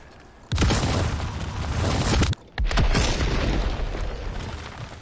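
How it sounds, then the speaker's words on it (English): A heavy M26 hand grenade explosion in the Resident Evil 4 Remake game lands as two loud, broad booming blasts, each with a long rumbling roar, separated by a short gap. "I'm gonna throw it far away so we can see the big explosion."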